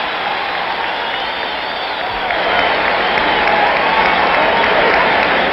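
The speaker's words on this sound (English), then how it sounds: "What a cheer for Quarry." A boxing crowd at the 1972 Ali versus Quarry heavyweight fight roars and applauds loudly and continuously, the cheering swelling slightly louder partway through.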